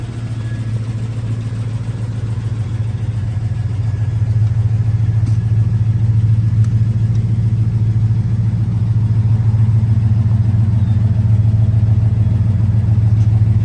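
A 1973 Plymouth Road Runner idles steadily through dual exhaust, a deep continuous rumble that grows slightly louder partway through with no talking.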